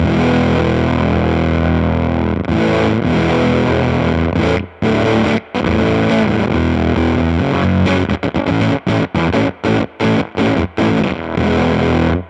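A heavily fuzzed electric guitar, played through a Silktone Fuzz pedal, plays loud, thick, sustained chords. The later part breaks into choppy, stuttering bursts separated by short silences.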